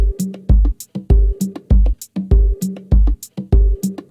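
Electronic drum loop with all the drum parts playing together: punchy kicks, snappy snares and bright hi-hats in a steady, even groove, loud and close with short reverb tails that cut off after each beat.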